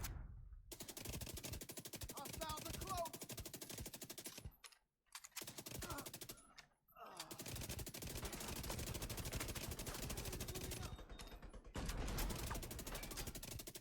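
Automatic weapon fire in the video game The Division 2, long rapid bursts of loud gunshots broken by two short pauses, dense and close throughout.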